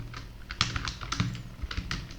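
Letters typed on a computer keyboard in a word processor, a quick uneven run of soft clicking keystrokes with brief pauses, close and fairly quiet, no voices.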